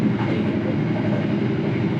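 The KA Malioboro Ekspres train runs with a steady, loud, close rumble from inside the executive-class carriage, a continuous even roar of wheels on track.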